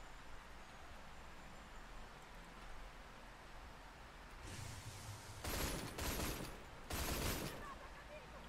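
Several short bursts of rapid gunfire from the shooter game Line of Sight crackle over steady background noise, growing louder toward the end.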